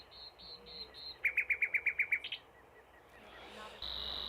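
A nightingale sings a varied phrase: a few high whistled notes, then a fast run of about eight loud, evenly spaced chirps, followed by quieter trills and a sustained high tone at the end, heard outdoors with no talking.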